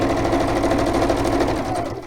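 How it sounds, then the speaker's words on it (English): A sewing machine stitching across the top of a fabric piece, running as a steady, close, fast mechanical whirr with a rapid even needle rhythm for the whole stretch, easing slightly at the end. "I was going to say the washing machine, but it's actually a sewing machine."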